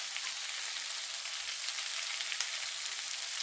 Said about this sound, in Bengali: এবার এগুলো দিয়েও আমি আর একবার ভালো করে কষিয়ে নেবো সবজিগুলোকে